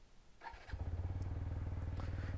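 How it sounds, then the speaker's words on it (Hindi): A motorcycle engine cranks briefly, then catches and settles into a steady, close idle with a regular pulsing throb, the bike having had its battery replaced the day before. "बाइक स्टार्ट करते हैं, सीधा निकलते हैं यहाँ से।"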